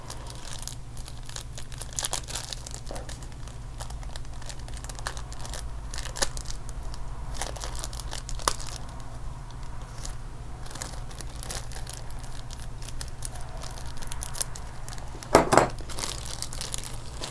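Thin vinyl sheet crinkled by hand while wrapping an air-layering on a Japanese black pine bonsai; soft, close crackles and rustles come in sporadic bursts, with one sharper crunch near the end, all fairly faint and without talk.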